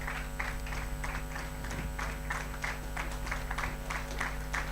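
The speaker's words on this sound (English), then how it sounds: "Clap for her till she comes on stage" Audience at a medical camp closing ceremony clapping as a doctor comes on stage, a continuous moderate patter of many hands over a steady hum, fairly distant, no talk.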